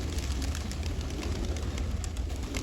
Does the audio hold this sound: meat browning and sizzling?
no